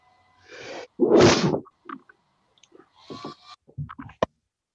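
One loud, sharp human sneeze in a county courtroom, followed by a few small scattered knocks and shuffles in an otherwise quiet room.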